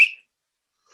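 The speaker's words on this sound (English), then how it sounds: "And listen out for this whistle." A single short, shrill whistle blast starts a comedy improv match, loud and close, cutting off almost at once and followed by near silence.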